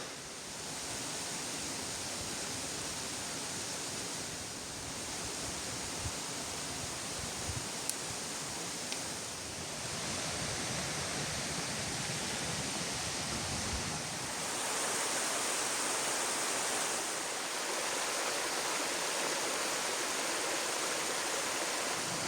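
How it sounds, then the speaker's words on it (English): A waterfall and rushing stream in a mountain forest in the Mourne Mountains, a dense, continuous roar of water that swells louder in the latter part, with faint rustling and no voices. "The whole way up through this forest is like that. Just lots of beautiful waterfalls"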